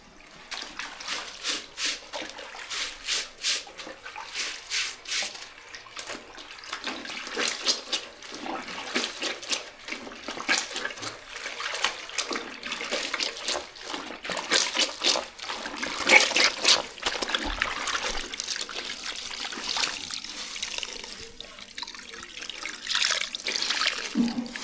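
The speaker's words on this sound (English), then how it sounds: "We are wash some clothes the old school way, hand wash style." Clothes washed by hand in water in Jamaica: steady splashing, sloshing and wringing trickles continue close by for the whole stretch, with uneven bursts of rubbing, and voices come up faintly now and then.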